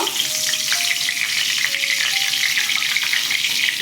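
Dried red chillies and bay leaves dropped into hot oil for doi potol, giving a loud, steady crackling sizzle with faint stirring, close by and without any talking.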